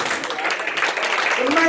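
A church congregation at a Sunday-style service claps in a brief burst of applause, fairly close and mixed with voices talking over it.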